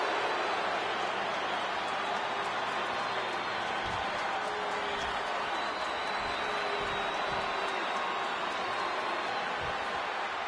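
A huge stadium crowd of over 100,000 in the WWE 2K26 video game roars in a dense, steady wash of cheering and noise, constant and distant-sounding with faint claps underneath.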